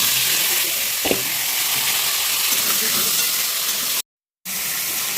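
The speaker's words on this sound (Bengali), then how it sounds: "এবার একে একে পটলগুলো ভেজে নেব" Salted, turmeric-coated pointed gourds (potol) fry in hot oil, a loud, close, steady hissing sizzle with one brief clatter early on and a short dropout near the end.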